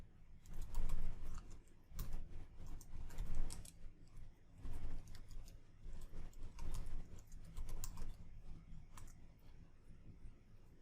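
Keystrokes tapped on a computer keyboard while entering a sudo Lynis audit command, coming in quick irregular bursts with short pauses between them, close and fairly quiet.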